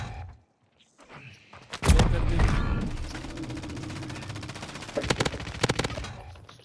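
Rapid automatic gunfire bursts from Call of Duty, loud and dense, with shots continuing in rattling clusters after a sharp opening volley, alongside some voice activity.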